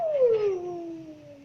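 A voice imitates a wolf howl with one drawn-out tone that glides from high to low and fades, close and without other sound.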